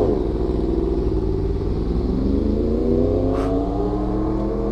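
A crossplane-engined sport motorcycle, a post-2009 model, pulls away under hard acceleration, its engine note rising steadily in pitch, loud and continuous outdoors with no talk over it.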